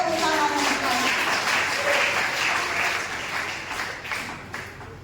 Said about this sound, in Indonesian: Kalau mau tepuk tangan